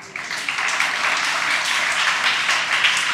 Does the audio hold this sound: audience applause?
yes